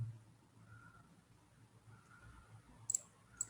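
Two quick, faint computer mouse clicks come near the end, over a quiet room hum with no talking.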